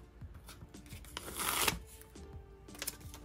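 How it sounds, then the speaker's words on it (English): Small tape tabs being peeled and torn off the packaging around a large comic book, giving a run of papery crinkles and rips that peak in a loud central tear, with no talk. "Let me get all these little tape tabs off."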